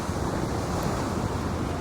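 Ocean waves wash onto a beach in South Goa as a steady, loud surf roar, with wind buffeting the microphone and no voices.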